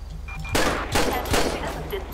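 Bursts of gunfire from the video game GTA ring out at close range, with two or three loud broadband volleys over a steady low hum and a few faint background tones.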